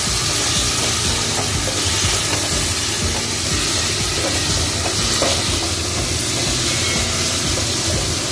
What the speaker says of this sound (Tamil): இப்போ நான் வந்து தக்காளி 3 கட் பண்ணி வச்சுருக்கிறேன், அதையும் சேர்த்துக்கிறேன். சேர்த்து நல்லா வதங்குவேன்.